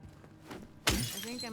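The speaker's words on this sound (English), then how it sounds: "I'm actually getting used to you smashing stuff up." Objects are smashed in the Silent Hill 2 Remake video game, a single sudden loud crash with a shattering burst that rings out briefly over quiet ambient game sound.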